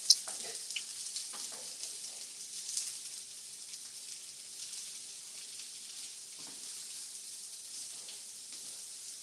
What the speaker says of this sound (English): I'm just gonna saute these two different, the sweet and these red mushrooms.